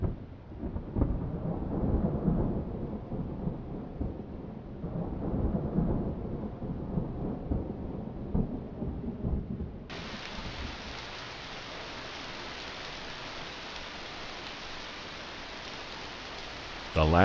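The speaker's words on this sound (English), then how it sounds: "storm clouds release over 5 inches of rain across Northern California" Heavy rain during a Northern California thunderstorm, a steady wash of downpour with low rumbling underneath that gives way partway through to a flatter, even hiss of rain.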